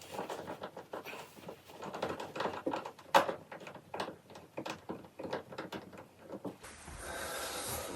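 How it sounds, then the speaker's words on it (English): Socket driver ratcheting and clicking as small screws come out of a 2021 Can-Am Outlander 850 during service, a quiet series of irregular taps and turns, with a brief louder hiss near the end. "I'm gonna switch to a socket driver here for the little guys"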